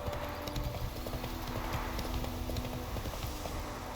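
Roach, Geralt's horse in The Witcher 3, gallops with steady, rapid hoofbeats close by, a continuous rhythmic clip-clop over game ambience with no talking.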